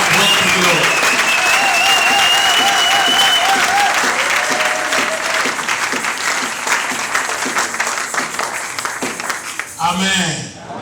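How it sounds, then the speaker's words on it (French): A church congregation applauds the Lord with sustained dense clapping for about ten seconds, loud and close, with a few voices and whistle-like cries rising over it before it fades. "Give you clap well to the Lord."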